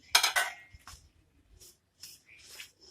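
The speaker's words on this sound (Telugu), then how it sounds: "కొంచెం 1 స్పూను 2 స్పూన్లు ఆయిల్ వేసుకుని కొంచెం శనగపిండి కలుపుకోవాలి." Gram flour being stirred into a spoonful or two of warm oil in a pan, heard as close metallic scrapes and clinks of a spoon against the pan with soft scuffing strokes in between.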